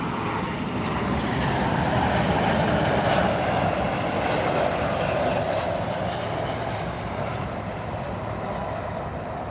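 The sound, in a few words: cargo aircraft arriving at Miami airport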